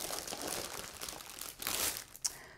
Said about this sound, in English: So I'll just unwrap it.